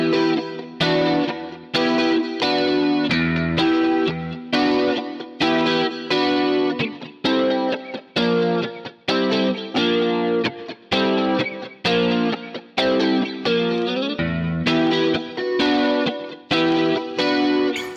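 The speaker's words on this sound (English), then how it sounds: "It's a really cool guitar part" Electric guitar break played through HX effects units, with chamber reverb, chorus and distortion; loud, sustained melodic notes and chords ring out continuously with rhythmic re-attacks, no voices.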